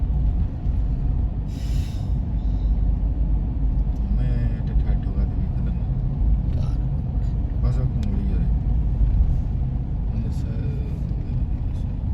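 A large vehicle passes on the misty Chamundi Hill road near Mysore, a heavy, continuous low rumble that holds steady throughout, with voices talking over it at times.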